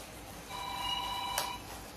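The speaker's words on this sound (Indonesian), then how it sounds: "Siapa sih telepon?" A telephone rings once with a bright electronic tone, a short steady burst at moderate distance in a quiet room.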